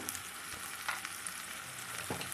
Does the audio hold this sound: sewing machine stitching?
no